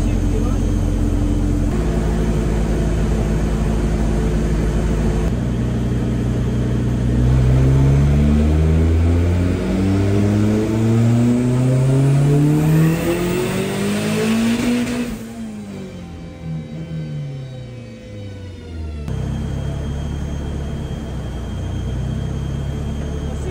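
Mazda RX7 rotary engine under boost on a dyno, revving hard through rising pitch sweeps, peaking loudly then cutting and dropping back to idle; the loud, close engine fills the whole stretch.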